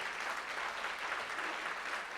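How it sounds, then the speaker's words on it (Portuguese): A church congregation applauding, a dense continuous patter of many hands clapping, steady and fairly distant over a couple of seconds, with no speech. "você pode aplaudir o Senhor Jesus por isso?"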